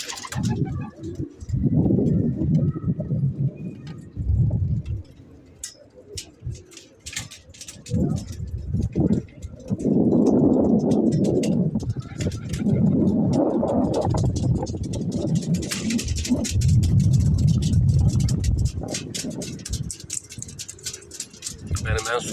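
Pigeons in a rooftop loft coo in repeated low, throaty bursts, with wing flutters and scuffling in between, while someone talks over them nearby.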